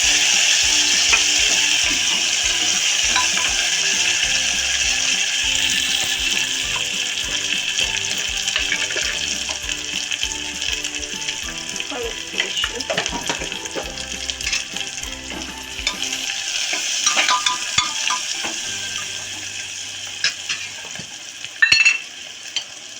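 Onion, peanuts, coriander and curry leaves fry for khichdi, a steady close sizzle with stirring scrapes in the pan, easing to a quieter hiss near the end.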